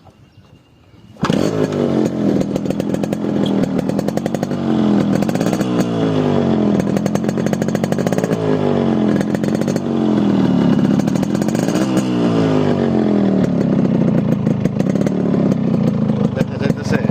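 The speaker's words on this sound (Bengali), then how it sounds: "গাড়ির সাউন্ডটা শোনা দিই।" A Japanese Yamaha RX100 motorcycle engine fires up after a moment of quiet, then runs loud and close, revving up and down in repeated surges over a raw, buzzing idle.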